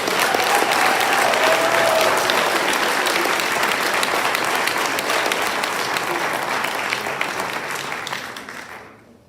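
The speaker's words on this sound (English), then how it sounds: "Please give them all a round of applause." At a collegiate high school senior awards ceremony, a large crowd applauds the named award students, with sustained dense clapping that fades out near the end.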